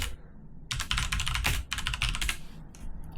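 Rapid typing on a computer keyboard while renaming a new skin folder for the Serum 2 synth, a dense burst of close, crisp key clicks with a short pause in the middle.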